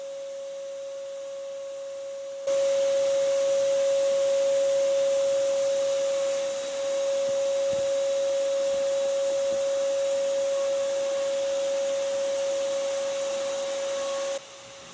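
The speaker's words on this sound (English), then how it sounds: "just taking the vacuum around and getting the residual of envelope" A vacuum cleaner drones loudly and steadily with a high whine in an attic, cleaning up residual paper nest debris after a European hornet nest removal, switching on after a quiet moment and cutting off near the end.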